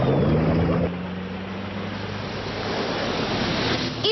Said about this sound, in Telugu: ఇదొక ఆంఫీబియన్ మోటార్ కారా?